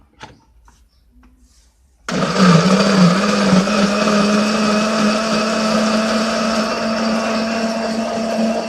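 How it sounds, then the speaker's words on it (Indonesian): A blender starts abruptly after a quiet moment and grinds spices for Acehnese kuah pliek u steadily at high power, a loud continuous whirring drone that holds to the end. "Bumbu yang udah siap tadi kita blender ya"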